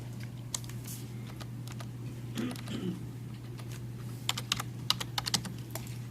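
Typing an IP address on a computer keyboard: quiet scattered keystrokes that quicken into a run of crisp clicks over a constant low hum, heard close and alone.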